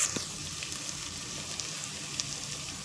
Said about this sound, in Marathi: मस्त असं परतून घ्यायचं